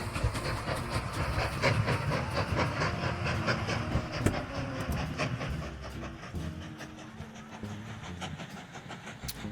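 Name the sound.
train running in the video game Mashinky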